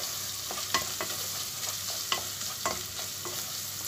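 Ground red pepper and black pepper roast in a pan for a borlotti bean stew, a low sizzling hiss under repeated sharp scrapes and clicks of a spoon stirring against the pan.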